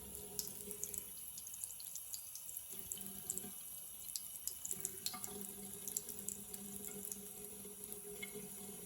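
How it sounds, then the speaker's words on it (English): A coffee-etched Damascus steel knife is rinsed under a running tap, giving a steady, close hiss and splatter of water into a sink for several seconds with no talking. "So now let's wash it off and I'll see what it looks like without any coffee on it."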